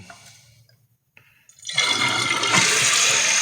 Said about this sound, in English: So we'll flush it.